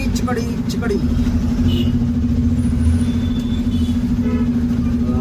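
Road traffic in Chikkodi city, a steady near rumble of cars, buses and trucks with engines revving and a brief air-brake hiss, a constant hum running throughout; voices can be heard over the traffic.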